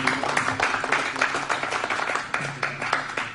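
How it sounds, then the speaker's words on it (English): A small audience at a round table event at Foster Supply in West Virginia claps in a steady patter of close, overlapping hand claps for a few seconds, with no one talking over it. "You could give them a round of applause if you appreciate it."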